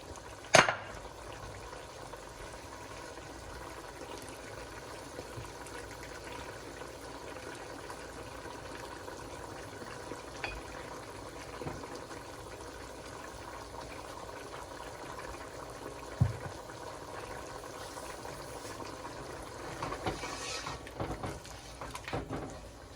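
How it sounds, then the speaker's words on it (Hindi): Hot oil poured into a pan of tender cooked mutton for karela gosht, giving a steady low sizzle and bubbling that runs on with a few metallic clinks and scrapes of the pan. "तो चलिए पहले ऑयल डालते हैं।"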